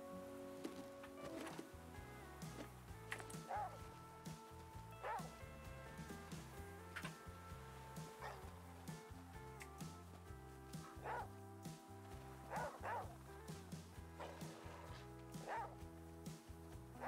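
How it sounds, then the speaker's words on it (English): A dog in the survival video game Flame in the Flood barks and yips repeatedly with some whimpering, sharp calls spread over a steady game music bed. "Are you barking?"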